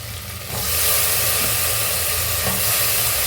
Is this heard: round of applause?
no